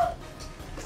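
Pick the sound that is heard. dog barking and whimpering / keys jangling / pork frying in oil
dog barking and whimpering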